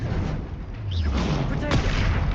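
A Bombarda spell explosion in Hogwarts Legacy produces a deep, rumbling boom amid ongoing combat effects, with a voice speaking over the din.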